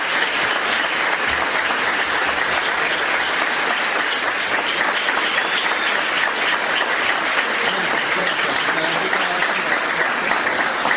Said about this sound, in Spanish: vamos a dar un aplauso muy especial a nuestro querido invitado de hoy